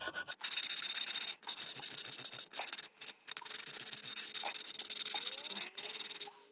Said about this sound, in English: So I like to get that sandpaper that I used and just give it a quick little sand.